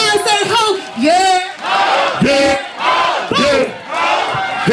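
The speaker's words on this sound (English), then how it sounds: "When I say yeah, y'all say ho, yeah." A live hip-hop concert crowd at the Echoplex, during a set, roars back "ho" in loud call-and-response, several massed shouts in steady rhythm alternating with the rapper's calls.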